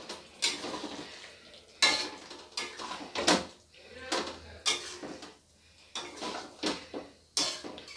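A spoon stirs pointed gourd korma in a pan with ghee and garam masala, giving a string of close, irregular scrapes and clinks against the metal, each short and bright, with brief quiet gaps between strokes.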